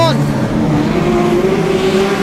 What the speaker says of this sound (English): Oh, Boss spins the number 2 and reverses it out of the way